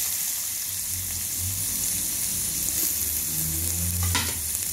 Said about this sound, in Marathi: कांदा थोडा परतून घ्यायचा